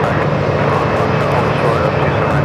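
An aircraft on approach to Phoenix Sky Harbor airport roars steadily overhead, a loud continuous engine drone with a faint high whine.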